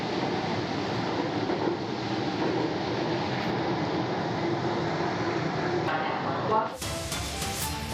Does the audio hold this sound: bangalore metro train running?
yes